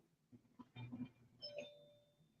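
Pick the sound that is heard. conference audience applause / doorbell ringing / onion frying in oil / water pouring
doorbell ringing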